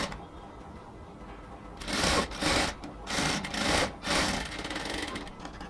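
A sewing machine stitching lace onto a collar runs in several short bursts of rapid stitching, each lasting under a second with brief pauses between, fairly close and moderately loud, with no voices.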